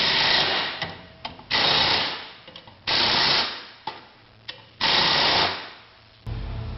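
A power tool runs in several loud bursts of a few seconds each, spinning bolts on a Camoplast Tatou 4S ATV track drive hub, with brief clicks and pauses between runs and no talking.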